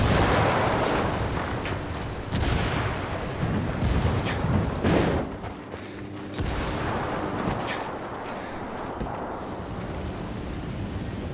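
A frag grenade goes off in the video game Ghost Recon Wildlands: loud, broad explosive blasts and booming rumble, with heavy gunfire-like bursts, one big detonation near the middle and a dense, sustained roar through the rest.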